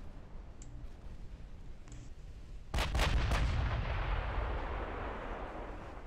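Heavy battleship main guns fire in the naval warfare game Ultimate Admiral: Dreadnoughts, a loud booming salvo of several rapid blasts that rolls into a long rumbling decay over steady battle ambience.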